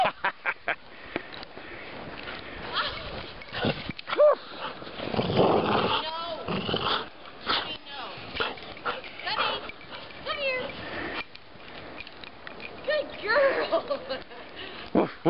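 A dog plays in the snow, giving excited yelps, whines and honking barks close by, with people talking and laughing over it throughout.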